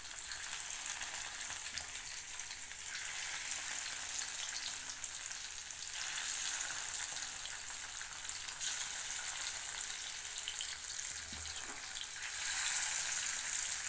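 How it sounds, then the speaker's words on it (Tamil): Fish pieces laid on an oiled dosa griddle sizzle steadily, a dense continuous frying hiss that holds at an even loudness close up, with no voices. "நம்ம தோசைக்கல்லில் மீன் எடுத்து எண்ணெய் ஆயில் நம்ம கையில் படாமல் மெதுவாக எடுத்து வைக்கிறோம்"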